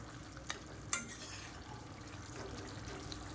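Eggs roast in masala in a pan with a soft, steady sizzle, broken by a couple of light spatula knocks near the start.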